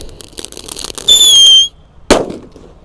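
An extra XL galaxy firecracker, not wrapped, goes off in a hole in the ground, first with a loud hissing whistle that stops abruptly, then a single sharp bang with a short tail of debris.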